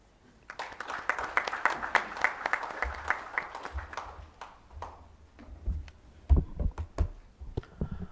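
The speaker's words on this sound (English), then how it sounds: "Can we give them another big round of applause?" An audience at an internet freedom forum in Africa claps, a scattered then fuller burst of applause that thins out into sparse, uneven individual claps.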